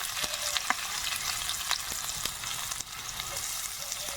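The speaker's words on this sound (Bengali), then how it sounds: "রসুন কুচি, দিয়ে দেবো পেঁয়াজ কুচি," Chopped garlic and onion fry in hot oil alongside dried chilli and ginger, a dense continuous sizzle close up with a few light clicks of a spatula stirring, no voices.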